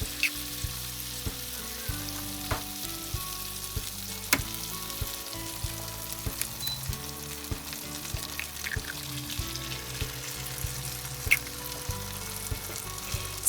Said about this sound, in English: I'm gonna crack my egg